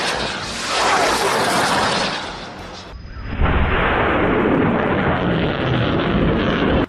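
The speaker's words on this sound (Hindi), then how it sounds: "कैसे हमास के लड़ाके पहले तो रॉकेट्स को लॉन्चर में फिट कर रहे हैं, उसके बाद उनको फायर कर देते हैं" Hamas fighters fire 114 mm caliber rockets from a launcher, a loud, sustained roaring whoosh that cuts out briefly and then resumes with another rushing blast, heard close and steady.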